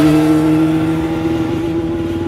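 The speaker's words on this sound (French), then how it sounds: "Il y a un mec qui arrive en bécane" A motorcycle engine hums loudly and close by on a street in Le Tampon, Réunion, a steady droning tone with a low throb, holding nearly level throughout.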